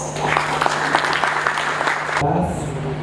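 Audience applause at the ZSPA Awards 2016 ceremony, a dense steady clapping that carries for about two seconds and then cuts off abruptly, leaving a quieter hall tone.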